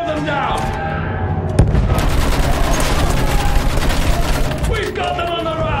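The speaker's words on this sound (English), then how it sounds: "Use that machine gun! Mow them down!" Sustained machine gun fire in Battlefield 1, a dense rapid stream of loud close shots with booming explosions mixed in, running under shouted battlefield voices.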